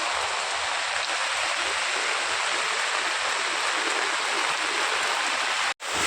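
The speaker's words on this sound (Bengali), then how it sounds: "অসম্ভব জোরে বৃষ্টি হচ্ছে, এতটাই জোরে বৃষ্টি হচ্ছে যে ছাতাটা ভেদ করে জল চলে আসছে" Heavy rain pours down outdoors, some of it on an umbrella, a loud, dense, unbroken hiss close by with only a momentary dropout near the end.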